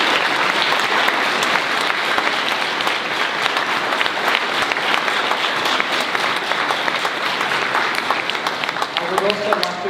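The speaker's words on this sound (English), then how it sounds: "Please give a round of applause to Mr." An audience at a school speech day and junior awards ceremony claps loudly and steadily throughout. The applause is dense and sustained, with many hands close together and no voices standing out.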